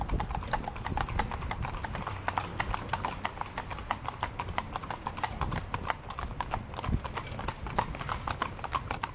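An inexperienced four-in-hand team that includes a fell pony trots along with a steady, rapid patter of hooves clip-clopping on a hard surface, continuous and fairly close throughout.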